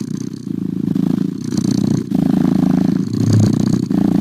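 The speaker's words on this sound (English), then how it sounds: "Here's a very standard purr you can listen to" A recorded cat purr played from a phone app: steady low rumbling purr running continuously, loud and close, with a slight buzzy rasp and faint clatter; no voices.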